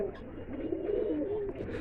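Pigeons in a small hobby pigeon farm full of eggs and chicks coo in a steady, close, rolling murmur that carries through the whole moment without pause.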